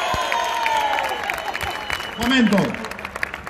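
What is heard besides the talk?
applause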